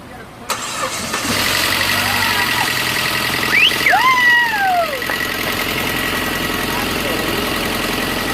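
A car engine cranks and catches, then settles into a steady idle, with voices talking over it and a whistle-like sound partway through.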